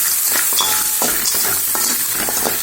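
Tomato, coconut, salt and gram sauté in a pan for chutney, giving a loud steady sizzle with quick repeated stirring scrapes close up and no speech.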